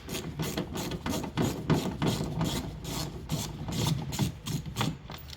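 T20 Torx screws being backed out of a Renault Clio 3 tailgate, a close, rhythmic series of gritty rasping turns, each a short scratchy stroke repeated in quick succession.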